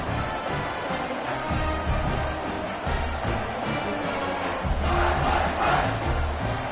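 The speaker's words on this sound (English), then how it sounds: "this crowd is feeling themselves after that last drive" A college football stadium crowd in the College Football 26 video game roars steadily, a dense, loud, continuous wash of cheering with no clear commentary.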